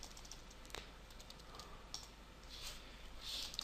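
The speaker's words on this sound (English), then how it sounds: "If I type in the body of my document" Faint typing on a computer keyboard, a light patter of scattered clicks over a steady background hum.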